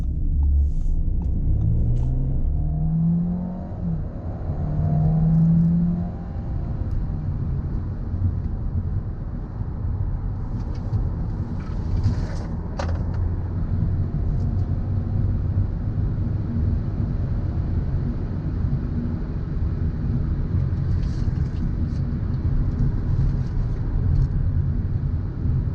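A 2018 Audi A4 2.0T S Line rolls through corners, giving a continuous low cabin rumble of road and engine noise with faint wind buffeting and occasional light clicks.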